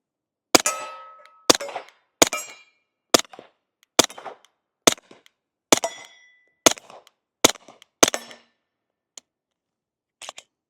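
An Accuracy X AXE-34 pistol firing subsonic ammunition outdoors: about ten sharp shots in a steady rhythm roughly a second apart, each with a short metallic ring, then a couple of faint clicks, with no talk.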